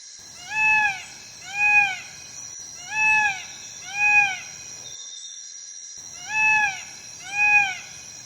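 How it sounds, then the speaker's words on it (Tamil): A peacock calls: six loud, wailing, cat-like calls, each an arched nasal cry, arrive in pairs with a brief pause in the middle, ringing clearly over a faint high drone. "மயில் அகவும்."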